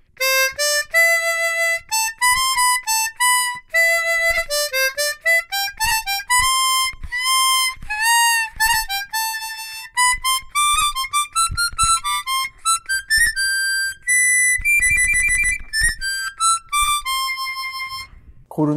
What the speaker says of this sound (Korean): 아크릴 콤으로 되어 있는 아마데우스 모델이고요.